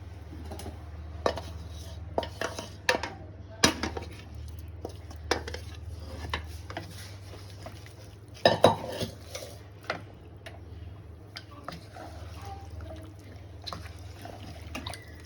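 Cooked mutton head curry is stirred in a metal pot, with a sequence of sharp spoon-on-pot clinks and scrapes over a low kitchen hum and soft liquid sloshing.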